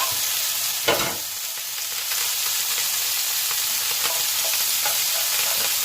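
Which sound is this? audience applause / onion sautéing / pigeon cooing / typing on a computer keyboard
onion sautéing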